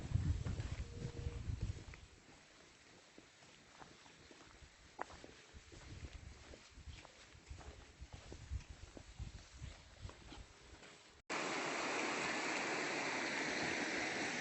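A shallow, ankle-deep river at a hiking crossing, heard as a low wash of flowing water with scattered footsteps and handling noises, then a sudden louder, steady rush of water near the end.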